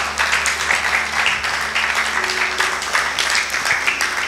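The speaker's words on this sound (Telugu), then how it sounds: "చప్పట్లు కొడతారు ఒకసారి" An audience claps together at a Telugu Christian sermon, with loud, sustained applause from many people that carries on evenly for a few seconds and has little speech over it.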